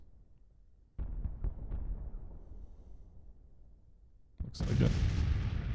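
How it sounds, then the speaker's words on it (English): Civil War cannons fire across a Grand Tactician battlefield: a cluster of deep, echoing booms rolls out, then after a lull a heavier volley thunders near the end, with a brief voice speaking. "Assuming those are mostly their guns firing at ours."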